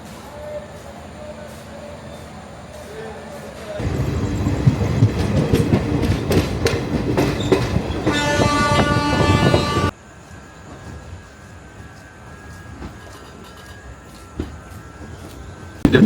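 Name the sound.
train from Kolkata to Deoghar, clickety-clack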